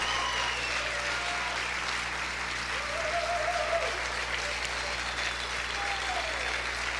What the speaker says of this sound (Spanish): Siga aplaudiendo, siga aplaudiendo